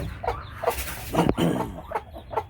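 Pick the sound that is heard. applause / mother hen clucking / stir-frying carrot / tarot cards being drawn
mother hen clucking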